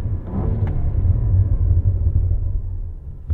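Inside a Cadillac CT4-V Blackwing, the engine gives a deep, steady rumble through the cabin, loud and close, easing slightly near the end.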